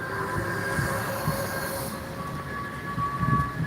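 Long Beach Metro light-rail train passing in downtown Long Beach, California, a steady close rumble with high wheel squeal and ringing tonal whines that swell toward the end.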